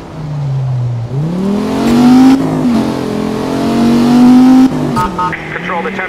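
Car engine revving and speeding in the racing game Need for Speed Rivals, loud and close, its pitch climbing and dropping through gear shifts over several seconds.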